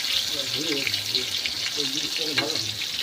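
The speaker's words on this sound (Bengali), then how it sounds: "আর এদিকে বসিয়েছি হচ্ছে পটল ভাজা" Pointed gourd (potol) slices frying in oil in a home kitchen pan, a soft crackling sizzle running throughout while someone talks over it.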